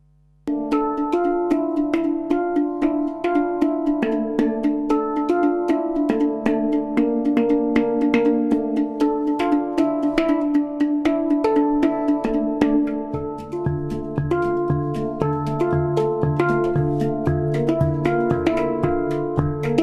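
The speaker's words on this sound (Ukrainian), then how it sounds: "ми можемо е, послухати, е, як взагалі звучить хандрам" A hang drum plays a flowing melody of ringing, bell-like metallic tones, struck in a steady stream with notes overlapping and sustaining, loud and close.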